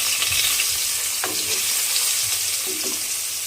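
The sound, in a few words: fish frying in a pan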